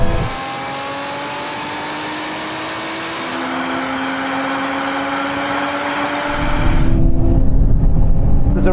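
A Lotus and a Toyota in a drag race, loud sustained engine roar with rising revving tones and gear changes, growing louder toward the end.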